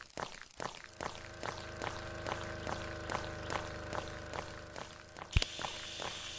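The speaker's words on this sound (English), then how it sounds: "Shower time." Water from a shower runs steadily with a rhythmic pattering, fairly faint and alone, ending in a brief louder splash.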